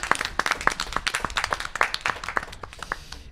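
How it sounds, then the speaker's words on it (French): A small audience at a student association event applauds the teams, with crisp, separate claps close by that hold steady for a few seconds and then fade away. "on peut applaudir toutes les équipes de la Fix."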